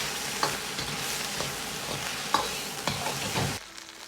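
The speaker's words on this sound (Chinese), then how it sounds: "这一步煸炒大概需要2分钟左右，炒至排骨表面稍微焦黄" Pork ribs stir-fried in a hot wok with cooking wine, a steady loud sizzle broken by scraping spatula strokes and occasional sharp clanks, ending abruptly into quiet.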